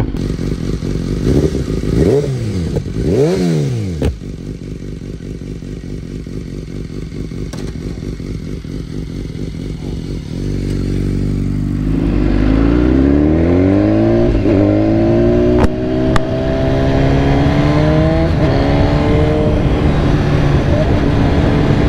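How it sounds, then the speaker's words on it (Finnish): A BMW S1000RR sport motorcycle on a test ride, its engine loud and close, revving up and down, then rising in pitch through the gears with steady wind-blown roar. "nyt olis testis BMW S1000RR. On kyllä jykevän tuntunen pyörä."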